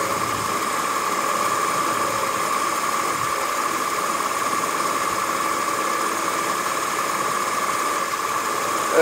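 Dodge Dakota engine idling with the A/C compressor clutch engaged, a steady loud running hum with a constant whine, recorded close and without talking.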